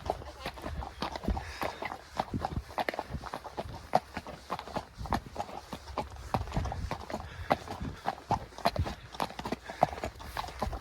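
Horse hooves on a steep gallop track clip-clopping steadily through a walk and trot, with dense, regular beats close by and continuous light rustle behind them.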